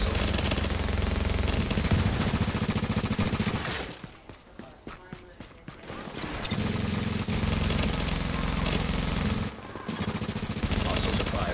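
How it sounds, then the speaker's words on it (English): Sustained rapid gunfire from video game soldiers attacking a fortification, loud and continuous with a brief lull in the middle, a second short break, and voice comms underneath. "Hostiles are firing on a fortification."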